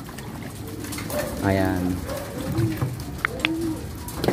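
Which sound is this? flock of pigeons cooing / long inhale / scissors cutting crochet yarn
flock of pigeons cooing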